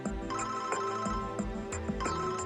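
A cell phone rings with a loud, steady electronic ringtone that repeats its pattern at close range.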